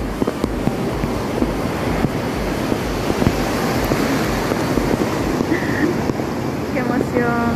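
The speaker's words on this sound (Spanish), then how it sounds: "Este es el mar que me encanta a mí." Ocean waves roll onto a beach in El Salvador, a constant broad surf wash mixed with wind buffeting the microphone, with faint brief sounds near the end.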